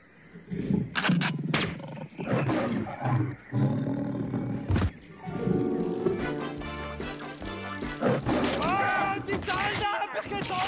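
A tiger roars loudly and close by in several deep, rumbling bursts, mixed with a person's voice and other sounds.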